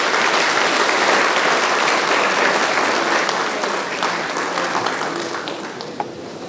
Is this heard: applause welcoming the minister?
yes